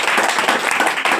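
A brief burst of hearty clapping from an audience at a business networking seminar, loud and close, lasting only about a second.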